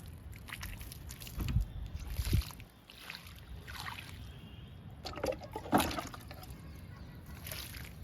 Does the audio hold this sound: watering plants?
yes